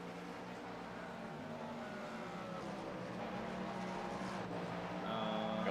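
Race car engine in the video game iRacing during an overtake at the Monza 24-hour race. It drones steadily, rising slightly toward the end, and sounds moderately distant.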